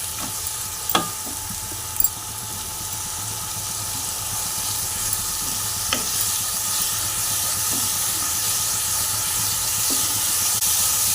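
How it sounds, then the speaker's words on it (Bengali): Spice paste sautéing in oil for a Bengali-style chicken curry, a steady hiss and sizzle broken by a few clinks and scrapes of stirring, close and moderately loud with no talking. "আর এই পেস্টটাকে আমি দিয়ে দিচ্ছি, দিয়ে ভালো করে কষিয়ে নেব।"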